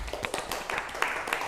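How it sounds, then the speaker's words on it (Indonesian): A classroom of students clapping together, a short burst of quick, uneven handclaps at close range with some overlap, lasting about a second and a half. "Tepuk tangan semuanya."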